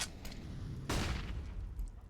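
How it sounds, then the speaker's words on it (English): A flashbang grenade goes off in a CS:GO pro match between Natus Vincere and FaZe Clan on Nuke: a single sharp burst near the one-second mark over a steady rumble of game noise, fairly faint. "Nice flashbang from the teammates there."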